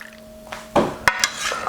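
Sauce poured over mussels in a pan: a short wet splash with a quick clatter of the pan, then softer liquid sizzling and dripping, close and fairly quiet.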